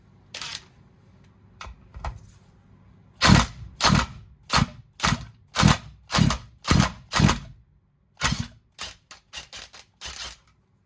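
An impact gun undoing a nut on a Stihl MS461 chainsaw, giving a string of sharp, evenly spaced rattling bursts, a few isolated hits first, then around eight strong pulses and a faster, quieter run at the end.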